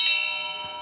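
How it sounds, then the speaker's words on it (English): A Benares brass bell struck once, its clear metallic ring holding steady with bright sustained overtones and fading slowly, close and alone with no voices. "It's a bell."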